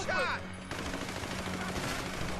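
Gunfire erupts while fighting an enemy in GTA V, a short burst of rapid shots at close range that starts right away and settles into a dense, sustained crackle.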